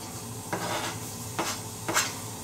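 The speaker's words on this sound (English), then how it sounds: "Then you hear the nice sizzling sound." Onion sizzles in hot oil in a wok, a steady crackling hiss broken by three short scraping stirs.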